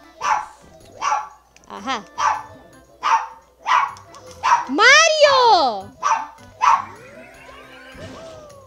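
A pet dog named Mario barking in a room, about eight sharp yelps and barks in a loose rhythm, with a whining, wavering whimper in the middle, close and loud, while a person talks between barks.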